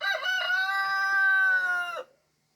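A single loud rooster crow rings out close by among backyard chickens, one sustained call of about two seconds that ends abruptly into silence.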